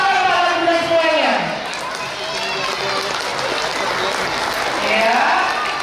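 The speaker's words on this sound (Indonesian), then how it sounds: "Bagi tepuk tangan para Bunda semuanya." Parents in the audience at a school sports week prize-giving ceremony applaud steadily, with the sustained, even clapping lasting several seconds.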